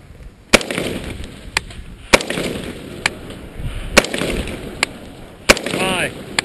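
Sharp rifle shots at an Independence Day rifle match ring out one at a time at roughly one-second intervals, loud and close, with brief echoing tails and faint background noise between them.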